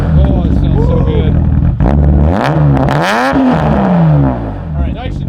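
A BMW E34 M5 engine revs hard through its exhaust, rising and falling in pitch in repeated loud pulls at close range, with people talking over it.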